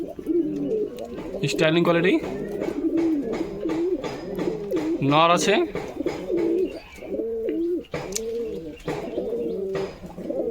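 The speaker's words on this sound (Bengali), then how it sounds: "এই যে ছেড়ে দিলাম, খুবই বড় আছে কবুতরটা, দেখুন।" Pigeons offered for sale, including a large male, give repeated low throaty coos in a steady rhythmic series, close by, while someone talks over them throughout.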